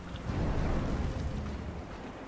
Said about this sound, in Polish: A tutaj lata mi burza.